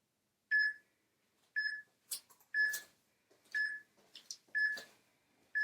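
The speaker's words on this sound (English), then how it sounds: "we'll start up the timer" Workout interval timer sounding a series of evenly spaced, clear electronic beeps, about six over several seconds, with faint rustling and movement noises between them as someone sets up a box for tricep dips.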